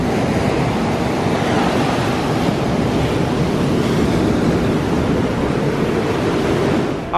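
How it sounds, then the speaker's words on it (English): Strong wind blows outdoors while a painter works on a panel, a loud, steady, broad rushing roar buffeting the microphone without pause from start to finish. "The wind has definitely picked up"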